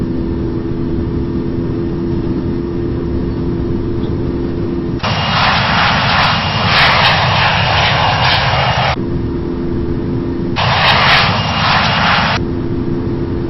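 Airliner jet engines in the Infinite Flight game roar steadily on the takeoff run, loud and close, with two surges of broadband thrust noise that rise and fall back to a lower hum.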